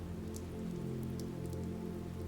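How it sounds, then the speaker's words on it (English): Rain pattering on nylon umbrellas at night, a soft, steady, even hiss of drops with no voices. "The soft patter of rain against nylon is soothing in this moment."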